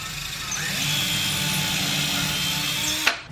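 A power drill bores through drywall into a wooden wall stud, a loud steady whine with rising pitch that cuts off abruptly near the end with a clunk, and no talking.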